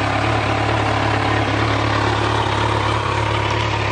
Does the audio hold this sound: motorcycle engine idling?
yes